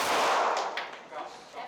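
Gunfire at a shooting range in Brazil: a loud, close, broad blast of shots opens, then trails into a noisy echoing decay with a couple of smaller cracks.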